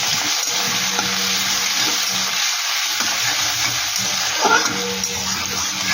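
Grated ginger, garlic and green chili hit hot oil in a pan, giving a loud, steady sizzle that carries through the whole stretch, with a brief stir midway.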